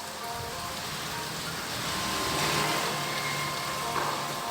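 Rain falls steadily outdoors, a dense, even hiss of drops continuing throughout with no voices.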